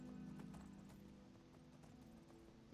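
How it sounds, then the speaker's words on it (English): A horse's hooves clip-clop at a steady rapid gallop in the video game Skyrim, a faint continuous drumming under low background game sound. "get on my horse, get on Frost here, and chase them down"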